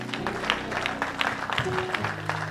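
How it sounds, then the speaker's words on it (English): A congregation at a memorial service claps hands in a steady, rhythmic beat, a dense crowd of claps close by with sustained organ or keyboard tones and some voices underneath. "Come on and clap your hands."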